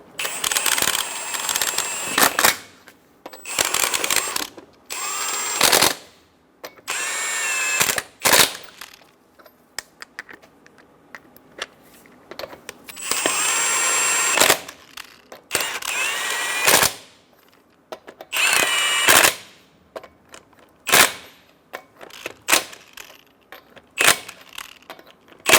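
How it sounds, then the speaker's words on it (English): Lug nuts being snugged onto the front wheel of a 2014-2018 Chevrolet Silverado pickup, heard as repeated loud bursts of a whirring, rattling power tool or impact driver with short quiet gaps between them, with no voices. "Snug the lug nuts down."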